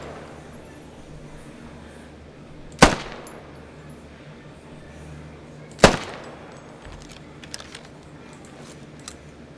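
Two sharp rifle shots crack out about three seconds apart at long-range targets in the video game Squad, each with a brief echoing tail over a low ambient hum.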